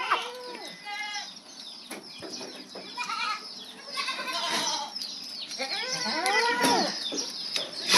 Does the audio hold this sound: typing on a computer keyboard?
no